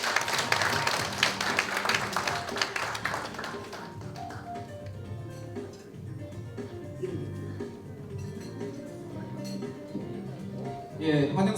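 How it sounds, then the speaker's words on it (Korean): An audience at a lecture event applauds after a welcome speech, with loud, dense clapping for the first few seconds that then thins out and fades. "환영사를 해주신 우리 총재님께 다시 한번 큰 박수 부탁드리겠습니다"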